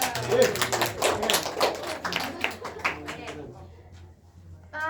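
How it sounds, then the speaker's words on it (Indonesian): Students in a classroom clap their hands in a dense, uneven burst of claps for the first few seconds, under and between a teacher's talk. The clapping then fades out. "Tepuk tangan untuk kita semua"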